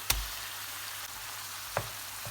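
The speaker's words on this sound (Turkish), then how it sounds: "Karıştırarak kıymamın da kavrulmasını sağlıyorum" Minced meat and mushrooms frying in a pan while being stirred, giving a soft, steady sizzle with a couple of sharp spatula knocks against the pan.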